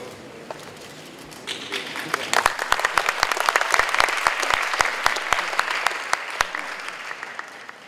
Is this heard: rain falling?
no